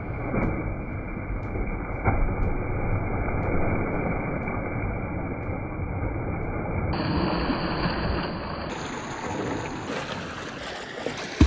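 A stream of water flows through a forest with a continuous rushing wash at an even level for the whole stretch. No voices are heard.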